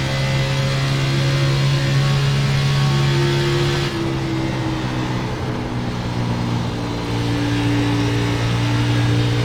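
NASCAR Xfinity race car at Charlotte in the iRacing simulator roars steadily at high revs, its engine tone holding, dipping briefly as the pitch shifts, then climbing again, loud and continuous with no voices.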